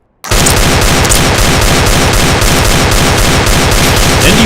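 A cursed weapon in Counter-Strike fires nonstop in a very loud, dense stream of rapid, evenly pulsed shots that saturate the sound and keep going without a break, with no voices.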